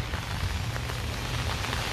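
Rain falls steadily outdoors, a dense, even hiss of close patter with scattered individual drops tapping on surfaces, alone with no talk.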